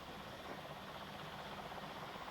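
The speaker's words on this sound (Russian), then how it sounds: "эти вертолеты, вот 68-й борт заправляет как раз сейчас" A helicopter at the Chernobyl nuclear plant in 1986 produces a faint, distant, steady rotor drone that stays constant without breaks.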